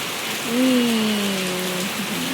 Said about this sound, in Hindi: देखिए क्या ताबड़तोड़ बारिश हो रही है।